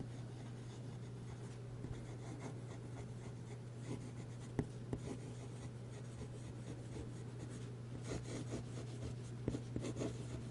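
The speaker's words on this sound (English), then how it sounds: "And we'll do a little bit of writing with it." Lamy fountain pen with an oblique broad nib writing on paper, a soft continuous scratching with brief light taps, close and faint over a low steady hum.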